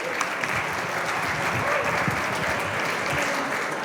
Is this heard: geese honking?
no